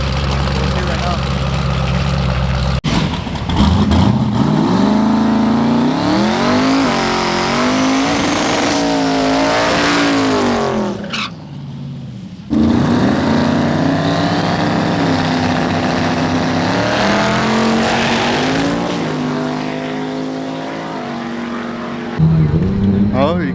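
Twin-turbo F-body car racing, with a loud, close engine roaring and sweeping through revs and gear changes, briefly dropping away mid-run before surging again.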